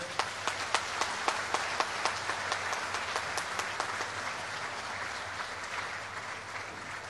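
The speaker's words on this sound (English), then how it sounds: "Let's give a big applause for them." Applause from an audience at a Social Business Day 2025 event, opening with distinct sharp claps that swell into a dense, steady wash of clapping held throughout at moderate loudness.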